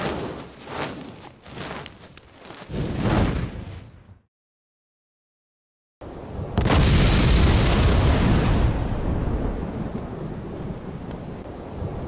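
A bomb goes off in Monkey Island 2: LeChuck's Revenge: rumbling, gusty noise breaks into full silence, then a sudden loud blast swells into a long, roaring wash of noise that slowly fades.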